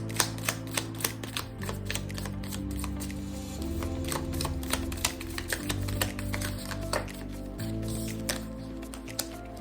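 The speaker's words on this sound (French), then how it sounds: "Je vais commencer par mélanger les cartes du tarot." Tarot cards are shuffled by hand in a rapid run of soft papery clicks and riffles, close and continuous, over a quiet background music bed.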